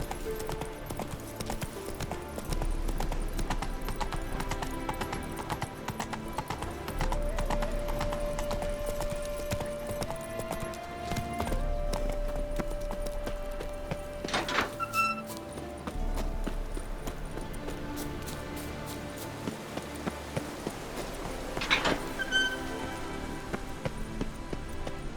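Roach, a horse in The Witcher 3: Wild Hunt, gallops with steady rhythmic hoofbeats that hold close and loud throughout, over game music, with a whinny or two and brief rattling effects partway through.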